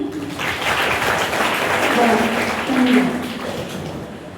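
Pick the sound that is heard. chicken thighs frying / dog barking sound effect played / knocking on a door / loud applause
loud applause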